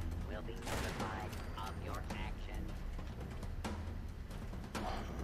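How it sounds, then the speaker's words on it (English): Gunfire in Fallout 76, a dense burst of shots running nearly nonstop and loud throughout, with people talking over it. "I was directly shooting at him."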